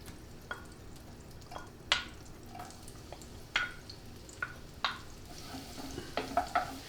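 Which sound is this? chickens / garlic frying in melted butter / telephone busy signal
garlic frying in melted butter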